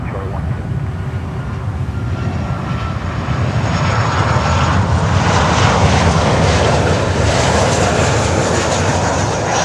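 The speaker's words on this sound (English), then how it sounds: "American 1255 on the tower, runway 9 and clear to land" An airliner on approach to runway 9 at Miami airport, a loud, continuous roaring jet engine rumble that swells slightly midway and stays steady throughout.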